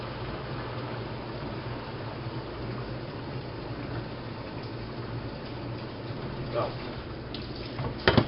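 Water pours steadily into a container being filled for an emergency water store, a constant rushing hiss with no pauses, fairly close, and a couple of small knocks near the end.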